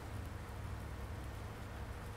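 Steady rain falling in the farming game Farming Simulator 19 Seasons, a constant even hiss with no breaks, quiet and heard on its own with no talking over it.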